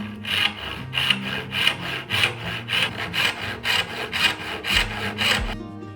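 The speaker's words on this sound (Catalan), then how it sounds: "El polze m'ajuda a col·locar exactament el xerrac allà on el vull posar i començo a fer un tall." A hand saw cuts into a wooden workpiece for a box joint, with about a dozen even, rhythmic rasping strokes heard up close in a quiet workshop.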